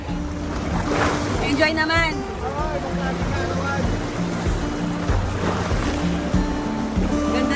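Sea water splashing and waves washing at a beach on a family weekend outing, a steady close rush of surf running under cheerful talk and children's voices.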